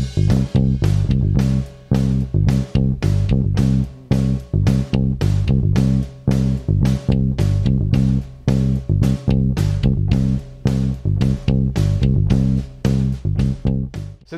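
Motown bass line playing alongside a drum kit, with steady sharp drum hits over a busy, syncopated low bass groove, loud and continuous throughout.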